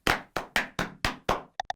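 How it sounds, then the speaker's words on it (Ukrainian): Six sharp, evenly spaced slaps of hands against arms or legs ring out close and loud, followed by two quicker, lighter taps. "Ведучий плескає себе по руках чи ногах кілька разів"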